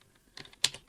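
Keys clacking on a computer keyboard while a Linux command is typed, a few light scattered taps followed by a sharper cluster of keystrokes, close and alone.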